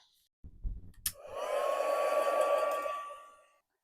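A hair dryer switches on after a few soft handling knocks and blows steadily for about two seconds to dry acrylic paint on a large vintage mixed media collage, a close whooshing airflow with a faint motor whine that then winds down.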